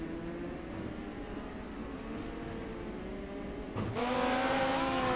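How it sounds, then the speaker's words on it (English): Midget race cars running on a dirt track, a steady far-off engine drone that swells louder near the end as a car passes closer. "We got two cars on track"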